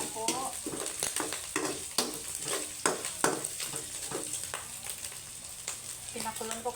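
Food browning and sizzling in a hot frying pan while squash is prepared for a coconut milk dish, with steady frying crackle, repeated stirring scrapes and a few spatters, close and moderately loud.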